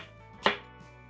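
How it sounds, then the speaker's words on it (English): A kitchen knife cuts skin-on butternut squash into rough dice for a curry coconut soup, giving one crisp, close chop on the board followed by quiet. "So all I need with this is just cut them into rough dices."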